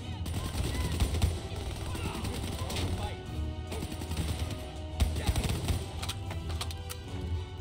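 Rapid automatic gunfire from Call of Duty crackles in dense bursts, loud and close, with a short lull around the middle before more shots resume.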